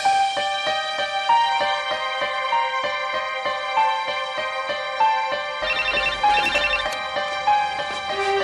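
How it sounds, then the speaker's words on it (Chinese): A telephone rings repeatedly in a steady electronic pattern while an outgoing call is placed to a home, loud and alone with no talking. "我现在往家里打电话"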